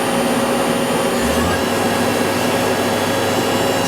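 A Citizen M-20 CNC Swiss-type lathe sub spindle spins up toward 1500 RPM, giving a loud, steady mechanical whir over broadband machine-shop noise, with a short rising hum partway through.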